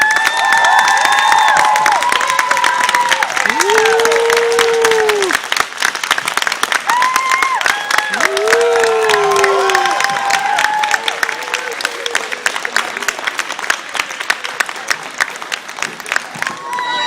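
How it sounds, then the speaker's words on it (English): Audience at a senior night celebration applauds and cheers loudly and steadily, dense clapping with whoops and shouted voices rising over it throughout. "I think we need to take time and thank you with an applause for all you've done all season"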